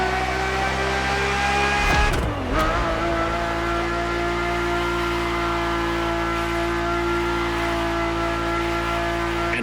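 A race car in The Crew Motorfest, heard from the cockpit, holds a loud, steady engine roar with a quick rev change partway through, then settles into a high, sustained drone with no talking.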